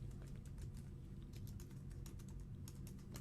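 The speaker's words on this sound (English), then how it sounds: "grab our type tool and type Star Records" Steady computer keyboard typing, a quick run of soft, closely spaced key clicks with no voice, set against a constant low hum.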